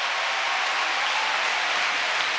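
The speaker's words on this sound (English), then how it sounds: "Give the Lord a big hand clap." A church crowd at a revival service applauds continuously, a dense unbroken wash of many clapping hands, loud and even from start to finish.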